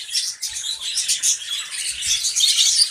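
Budgies in a breeding colony, a red-eye female among several males, chatter in dense high twittering and chirps, close and continuous with small flutters and rustles.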